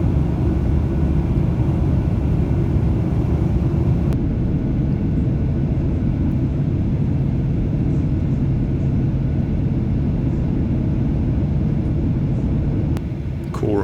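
A Delta Air Lines Boeing 737-900 economy cabin on landing approach fills with a steady, loud, deep engine and airflow roar that holds throughout, with a couple of faint clicks near the end.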